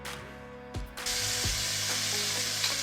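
Butter and olive oil sizzle in a frying pan with a sudden loud hiss as the fat hits, then a steady close crackle, with a few faint knocks in the first second.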